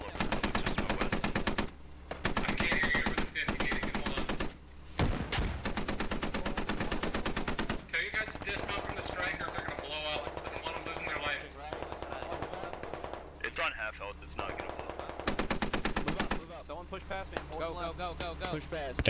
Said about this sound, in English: And Striker just took a shot